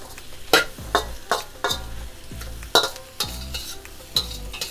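Fried rice ingredients are stirred in a hot pan, a utensil scraping and clanking against the metal in repeated strokes over a constant sizzle, with no talking.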